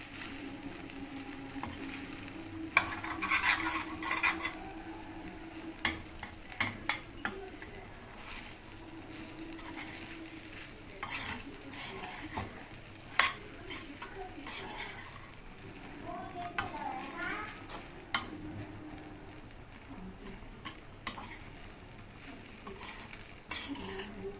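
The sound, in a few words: stirring fried rice in a pan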